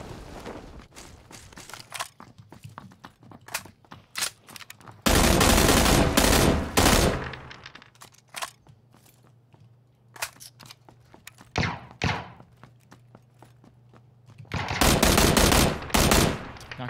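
Vector submachine gun fire in the battle royale game PUBG: rapid automatic bursts, some loud and close, others more distant, broken by quieter gaps with scattered footsteps and small clicks.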